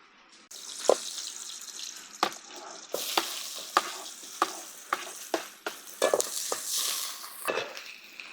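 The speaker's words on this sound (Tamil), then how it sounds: "கடைசி காயையும் தாளிச்சு விட்டுறலாம்" Vegetables being tempered in a pan over a firewood stove, a continuous hiss of frying punctuated by repeated sharp scraping and stirring strokes, close and fairly loud.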